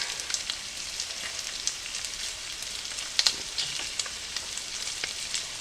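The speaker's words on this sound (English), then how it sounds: "just going to add some fresh garlic into my sausage and onions here" Fresh garlic added to sausage and onions fries steadily in a pan, a close, even hiss and crackle with scattered sharper pops throughout and no voices.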